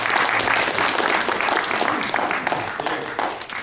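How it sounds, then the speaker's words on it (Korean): An audience at a forum on peaceful unification and national security applauds to welcome a speaker, a continuous wash of clapping with faint voices mixed in, easing slightly toward the end. "박수로 맞이해주세요"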